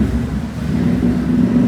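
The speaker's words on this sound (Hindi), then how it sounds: "क्या बढ़िया आवाज़ आती है यार अपनी बाइक की।" A TVS Ronin motorcycle engine idling and revving steadily up close, a loud continuous mid-pitched engine drone with no pauses.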